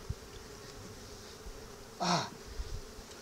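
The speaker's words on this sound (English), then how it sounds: "there's actually a lot of bees down there too" Honeybees around an open hive during an inspection, with a queen excluder in place. A soft background hum swells into one brief, loud, close buzz, and a single short exclamation from a person is heard.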